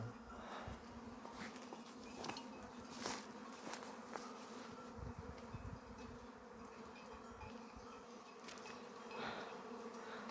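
A dense, steady buzz of many bees swarming close by around a hive branch, continuous throughout with a few louder passes and faint rustling.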